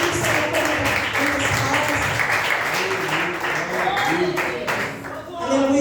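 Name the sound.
church congregation applauding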